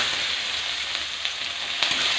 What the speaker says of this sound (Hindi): थोड़ा सा हल्दी डालकर हम कटा हुआ प्याज को डाल देंगे।